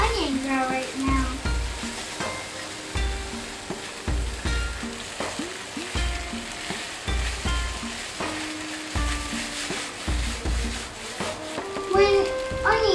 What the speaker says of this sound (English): I am trying to focus on onion grill right now.